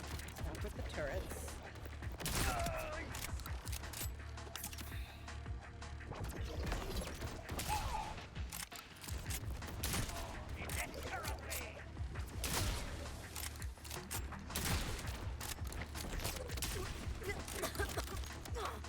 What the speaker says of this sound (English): Stop with the turrets.